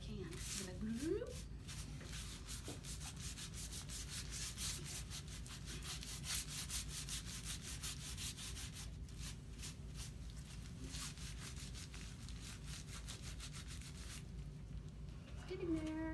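Steady dry scraping and rubbing of paper pressed onto an inked dry point etching plate, continuous and close, with voices talking over it.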